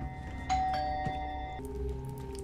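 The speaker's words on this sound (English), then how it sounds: "how many times do you have to ring a doorbell?" A doorbell in Squid Game episode 2 chimes a two-tone ding-dong, then sounds again shortly after, its ringing tone lingering faintly over a low background hum.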